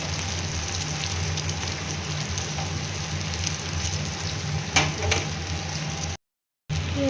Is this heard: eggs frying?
yes